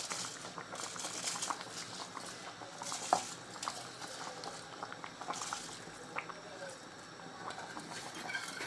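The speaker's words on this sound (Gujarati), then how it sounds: "પાણી ઉકળી ગયું છે" Water bubbles at a rolling boil in a pot for prawn biryani with basmati rice. The bubbling is soft and steady, with faint clinks of utensils now and then.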